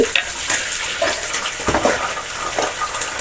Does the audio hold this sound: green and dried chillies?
yes